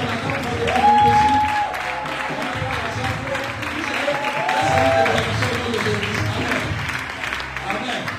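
A congregation at a French-language overnight church vigil claps and acclaims together, a steady swell of applause rising and falling with voices and shouts mixed in.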